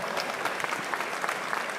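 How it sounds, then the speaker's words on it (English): A large audience at a mayor's State of the City address claps steadily and evenly throughout, a dense wash of applause with no talk over it. "We should give a round of applause"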